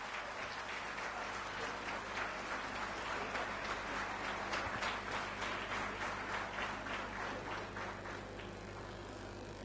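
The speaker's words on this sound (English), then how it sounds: "Please give a round of applause to the chief guest" A crowd at a World Human Rights Day event claps for the chief guest in a steady, sustained round of applause, dense and even, continuing throughout without pause.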